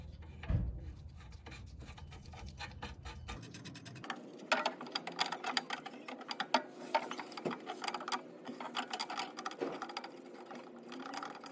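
A nut being turned onto the rear sway bar link bolt of a 2015 Lexus IS250, quick rapid clicking and scratchy metal-on-metal ratcheting, close and fairly faint, steady for several seconds with no talking.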